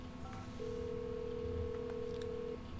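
A phone call rings out in the GTA 5 video game: a brief double tone, then one long steady dial tone holding for about two seconds over low background game ambience.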